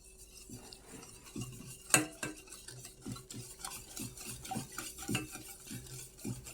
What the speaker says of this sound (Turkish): Hadi karıştır bakayım güzelce.